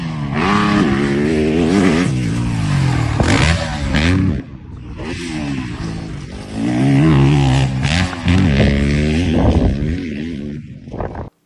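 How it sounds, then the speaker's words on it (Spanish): A Yamaha competition motocross bike's engine is revved repeatedly, sharp rising and falling blips with brief idling gaps between them, loud and close, with some clattering mechanical noise. "ahora vamos a ver cómo es su moto de competición"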